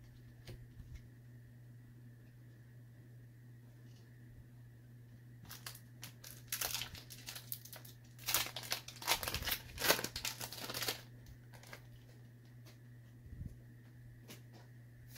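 Foil wrappers of Pokémon card booster packs, Vivid Voltage and Team Up, crinkle and tear open in bursts of sharp crackling, close and moderately loud over a steady background hum.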